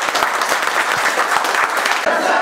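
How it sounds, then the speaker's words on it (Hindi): A group of people in a classroom claps hands in sustained, dense applause, loud and close, with talk mixed in. "जोड़ा ताली बजा दो"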